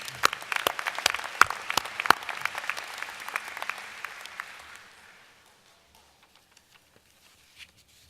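A graduation audience at a business school commencement claps in a sustained round of applause that gradually thins out and fades, leaving scattered late claps.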